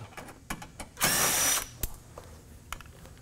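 Power tool loosening 10 mm bolts on the front inner plastic panel of a Can-Am Maverick, heard as one loud half-second burst of whirring amid faint clicks and small knocks.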